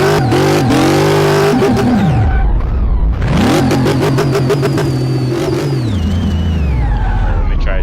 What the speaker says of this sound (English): You can really hear that supercharger though.